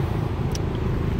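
A 1965 Ford Mustang GT coupe idles with a deep, steady engine rumble, loud and close for a brief moment with no talk.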